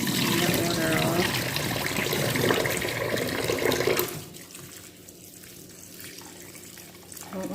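Salt water runs and dribbles as soaked saltfish is squeezed out by hand over a sink, a loud steady splashing stream that then drops to a quieter trickle.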